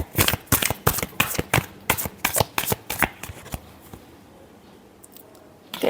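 Tarot cards being shuffled for a Capricorn love reading, a close run of quick riffling snaps in a steady rhythm for about three and a half seconds before trailing off into near quiet, with one last flick at the end.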